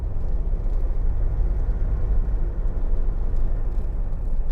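A 2009 Jeep Wrangler 2.8 Sahara Unlimited cruises along the motorway, giving a steady, loud in-cabin drone of engine, tyre and wind noise with no breaks.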